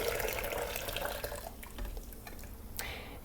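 Hot water, slightly cooled, poured from a kettle into a cup for lemon ginger tea, giving a steady close liquid splashing and trickling that thins out toward the end, with no talk.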